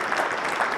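Audience applause at a quiz grand final, a brief, dense wash of clapping at steady moderate loudness with no talk.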